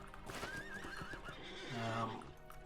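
A horse in the online game Lord of the Rings Online (LOTRO) whinnies loudly with a wavering neigh, hooves clopping beneath and game ambience around it.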